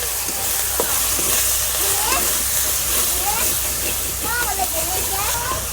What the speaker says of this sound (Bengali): মশলা আমি ভালো করে কষে নিতেছি